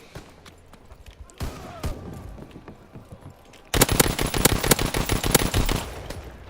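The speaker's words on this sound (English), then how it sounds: "This gun has no recoil at all." Machine gun fire from a first-person shooter video game comes in scattered shots at first, then a loud, rapid sustained burst over the second half, close and dominant.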